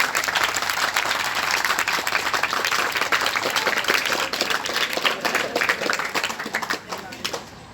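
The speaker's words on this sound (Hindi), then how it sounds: "तालियां बजाओ।" Students at a government senior secondary school in Narsingpur, Gurugram, clap during a Sahaja Yoga meditation session: dense, sustained applause filling the whole stretch, loud and close, thinning slightly near the end.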